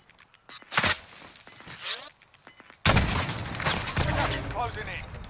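Gunfire in the Warzone battle royale game: a few sharp isolated shots, then a sudden dense burst of rapid fire and impacts from about halfway, loud and close, with no talk over it.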